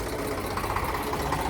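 A loaded tractor rolls through an open gate, its engine giving a steady, close, loud diesel rumble throughout the short moment.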